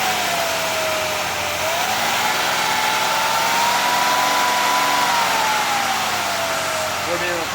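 2002 Mazda Tribute engine with a newly cleared front catalytic converter, revving loudly and steadily as the pitch rises and holds for several seconds before easing back down.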